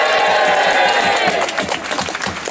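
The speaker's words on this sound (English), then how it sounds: "Please give him a cheer." A crowd at an outdoor political demonstration cheers and shouts for a former civil servant stepping up to speak, a loud continuous roar of voices that thins slightly toward the end.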